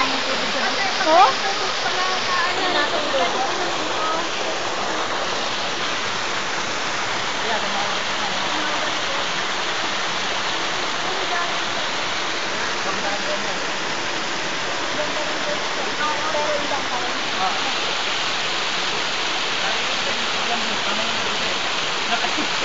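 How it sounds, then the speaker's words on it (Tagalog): A strong gush of natural spring water at an outing spot, a loud continuous rushing and splashing roar that holds steady throughout, close to the listener. "nalakas naman yung tubig sa dito"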